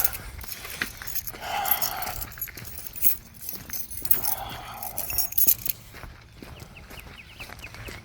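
Keys jangle in several brief metallic bursts outdoors beside a 1983 Dodge D150 pickup, with scattered clinks and handling noises between them.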